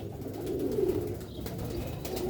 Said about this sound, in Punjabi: ਸਿਆਲਕੋਟੀ ਛੱਤ ਵਾਲੇ ਕਬੂਤਰ